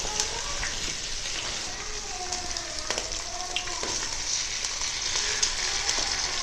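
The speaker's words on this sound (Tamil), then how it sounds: "நடுவில் முட்டையை ஊற்றி அதை உடச்சிக்கலாங்க." Eggs frying and being scrambled in a pan with onion and tomato, a steady close sizzle with occasional scrapes and stirring clicks, alone without talk.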